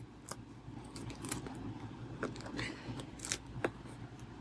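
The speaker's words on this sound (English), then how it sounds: "Let's see if I could just rip this tape off." Scattered crackles and tearing rasps as tape is pulled from cardboard, quiet and close, in short irregular bursts.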